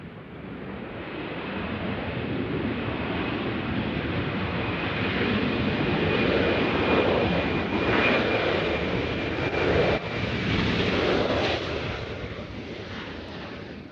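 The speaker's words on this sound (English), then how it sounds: "See KC-46A over Nashville right now." A KC-46A tanker aircraft flies over Nashville, a broad, rumbling jet roar that swells gradually, peaks midway and fades slightly while staying loud and continuous throughout.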